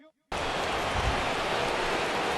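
Steady rain hiss in a baseball video game, a broad even wash that cuts in abruptly after a brief moment of quiet and holds at a constant level throughout.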